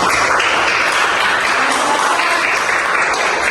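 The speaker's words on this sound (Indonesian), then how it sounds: "Tepuk tangan untuk kita semua." Students in a classroom applaud together in a steady, dense burst of clapping that holds at even loudness throughout, with no voices heard over it.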